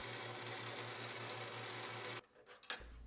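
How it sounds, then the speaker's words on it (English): A lathe faces off the end of an engine piston held in a collet, giving a steady, even machining whir with a faint regular pulse that stops abruptly near the end, followed by a few small clicks. "I can now hold it in a collet and face off that center."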